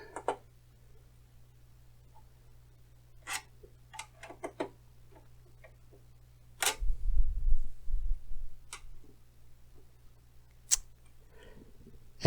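Screws are driven in on a Korg CX-3 Gen 2 organ during main board replacement, heard as sparse, close clicks and ticks of a screwdriver with a brief rattling handling burst midway.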